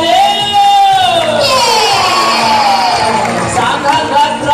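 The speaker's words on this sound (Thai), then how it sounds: "มาแล้วปรบมือต้อนรับดังๆกันหน่อยเร็ว" Crowd at a dolphin show cheering and whooping loudly, sustained and close, with a bright whistle-like tone sweeping through and an amplified voice over it.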